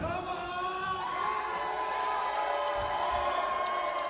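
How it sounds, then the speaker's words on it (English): A wrestling arena crowd cheers and whoops during a tag-team match, a continuous loud roar with rising shouts, steady throughout with no pauses. "The crowd coming alive."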